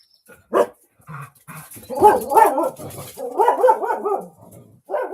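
A foster dog barks close by in a series of sharp yaps and clustered barks, some whimpery, with short pauses between bursts.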